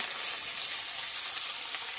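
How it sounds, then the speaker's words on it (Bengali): Sliced onions frying in oil with cardamom and cloves, a steady bright sizzle that stays even and close throughout, with no voices. "পেঁয়াজটা ভাজা ভাজা করে নেব"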